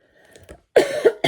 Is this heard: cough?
yes